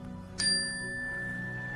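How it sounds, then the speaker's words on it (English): A single chime struck to open a paranormal session rings out clearly with a bright metallic ping, then sustains a pure shimmering tone that slowly fades over a low background hum. "So I'm going to ring my chime, which signifies I'm going to begin the session."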